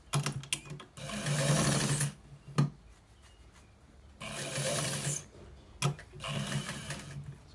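A sewing machine stitches a white trouser in two sustained runs of fast whirring, close and moderately loud, separated by quiet stretches with clicks and handling noises.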